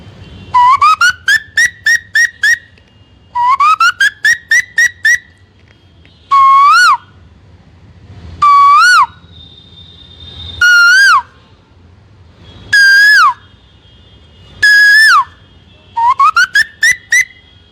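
A man whistles a convincing imitation of a koel's call: loud, close, rising whistled phrases repeated in bursts, some as quick rapid runs and others as single longer swooping notes, with short pauses between.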